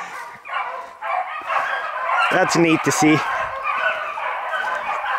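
Young hounds barking and yipping at a hare-coursing race in October, a short burst of barks near the middle heard under steady outdoor commentary, with voices talking throughout.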